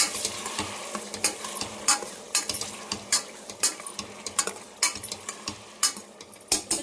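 Tomatoes with rock salt and turmeric stirred in a sizzling pan, a steady fry hiss broken by repeated scraping strokes of a spoon against the metal, close and clear with no talking.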